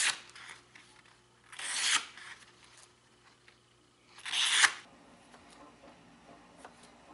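Scissors trim the ends of a cord wrap on a knife handle, heard as two separate close rasping, cutting bursts a couple of seconds apart, with quiet pauses between.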